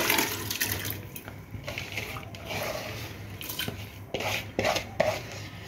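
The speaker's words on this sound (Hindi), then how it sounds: "इन दालों को मैं पानी समेत ऐड" Soaked mixed lentils for haleem are poured with their water into a cooking pot, giving splashy, sloshing pours and light clinks of utensils against the pot over several seconds, close by and with no talking.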